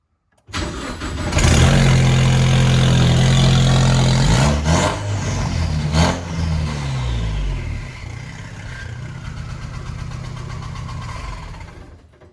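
A home-built super car's engine starts, settles into a loud, lumpy idle, then gets a single sharp throttle blip before dropping back to a quieter idle, close up.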